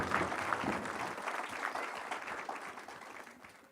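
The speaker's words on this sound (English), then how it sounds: "So can we give a round of applause for Pat?" An audience at a school board meeting claps together in a moderate, fairly distant burst that stays busy at first and then gradually thins and fades toward the end.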